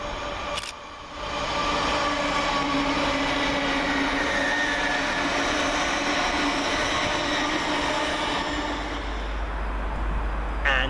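A Hull Trains Class 802 passes through Peterborough station on the far platform, a loud sustained rumble and electric hum rising after a brief lull and holding steady, with a faint wheel squeal near the end.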